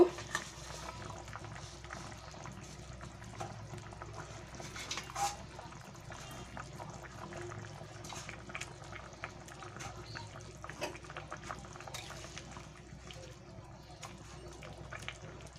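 Fish curry broth with potatoes bubbles in a pot at a low, steady simmer for the whole stretch. The sound is faint and continuous, with soft liquid burbles and no talk.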